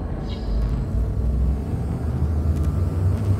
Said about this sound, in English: Drive charging.